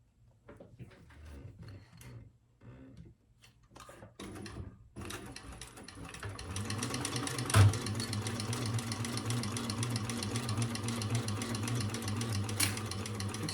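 A sewing machine stitching the seam allowance around three sides of a Busta Bag top flap: a few quiet handling knocks, then a steady, even whir of the needle running continuously at close range, with one brief bump partway through.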